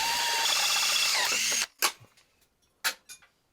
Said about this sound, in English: Fancy drill bit, broke in the hole.